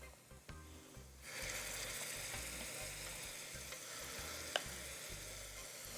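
Steady, loud sizzling of melon seeds (egusi) frying in hot oil, a continuous crackle after a brief quieter start, with occasional stirring clinks.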